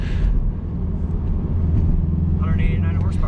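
Engine of a 2020 Mini Cooper S Clubman, 189 horsepower, droning low and steady while driving, a constant close rumble that runs throughout.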